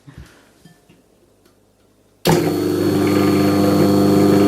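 A Champion 2000 juicer's loud, steady motor roar starts abruptly partway through after near silence, then drones on at constant high volume with a whining hum.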